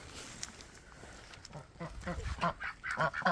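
Muscovy and Khaki Campbell ducks give soft, low quacks and honks on an icy day, growing busier and louder toward the end, with faint background noise.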